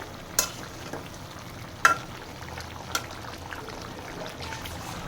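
Meat frying with a spice paste in a pan, a low steady sizzle broken by a few sharp clicks of a spoon stirring against the pan, close and moderately quiet, with no voices.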